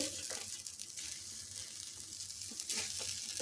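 Ground pea paste fries in a pan with ground ginger and green chilli while being stirred, giving a steady close sizzle with soft scraping strokes and no voices.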